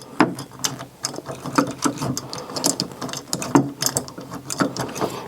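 Screws being driven into a door lock, likely with a ratcheting screwdriver: a close, steady run of quick clicking ratchet ticks with uneven rhythm, no talking.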